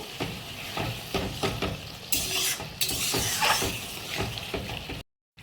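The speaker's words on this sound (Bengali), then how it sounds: "এবার ডিমটা দিয়ে দেবো যাতে মশলাটা ভেতরে ঢোকে। দিয়ে ভালো করে কষিয়ে দেবো" Eggs being stir-fried in curry masala in a pan for egg curry, a loud continuous sizzle with rhythmic scraping and stirring strokes and a brief burst of hissing partway through, close and without talk.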